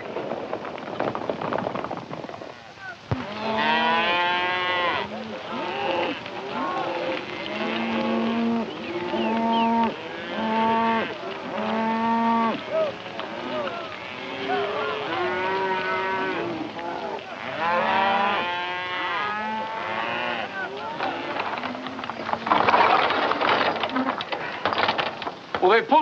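Cattle moo over and over near a rail yard, in a 1945 Western setting. Many overlapping bellows come one after another, loud and close, with a busy background under them.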